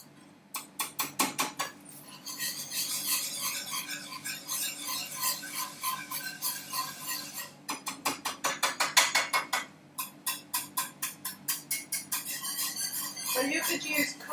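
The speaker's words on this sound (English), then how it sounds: "I'm just going to whisk it round" A whisk scrapes and clinks around a pan of coconut milk, white wine and braised fennel juices, making rapid rhythmic metallic taps in several bursts with brief pauses.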